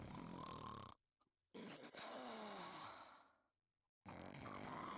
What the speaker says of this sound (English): Oh, the sound of wet snoring.